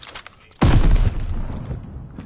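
A sticky bomb detonates in a war video game: one sudden loud blast after a quiet moment, then a rolling rumble that slowly fades.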